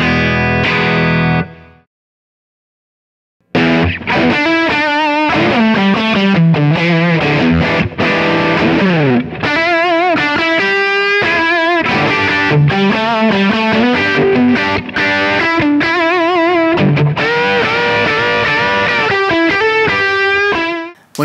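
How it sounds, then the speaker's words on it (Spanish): Electric guitar played through a Benson Preamp overdrive pedal, loud and driven with chords and melodic lines, starting after a short silence and continuing steadily to the end with no talking. "este Benson Preamp. Este pedal suena bastante como un amplificador."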